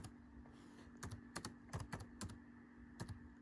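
Laptop keyboard typing while entering a search into Google: a handful of quick, light key clicks in irregular bursts, fairly faint, over a steady low electrical hum.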